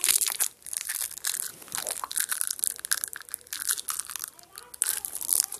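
A packet of cherry gum is pushed and squeezed, producing close, loud, irregular crinkling and crunching bursts of plastic and foil, with a voice faintly present.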